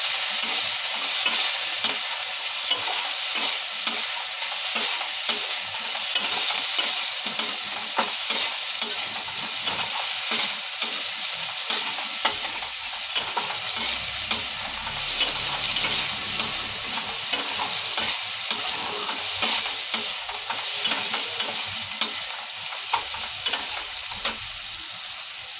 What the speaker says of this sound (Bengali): লাল লাল করেই ভাজবো এটা।